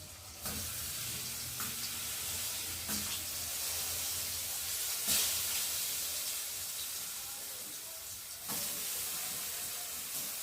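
Round slices of banana fry in a little oil on a tawa, giving a steady, quiet sizzling hiss with a few faint pops.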